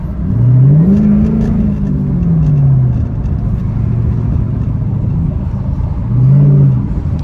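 A widebody Dodge Charger R/T Pursuit with all-wheel drive accelerates hard in a late-night drive, its engine note climbing and falling through two strong pulls and then surging again near the end, heard from inside the car.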